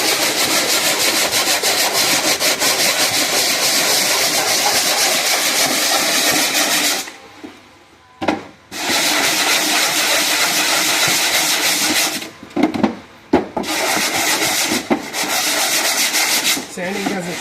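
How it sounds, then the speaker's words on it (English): A kitchen cabinet with glue residue is sanded by hand using a 60 grit sanding sponge. Steady, close, raspy rubbing strokes continue with brief pauses around the middle and near the end. No one talks. "I can use this sponge now at 60 grit"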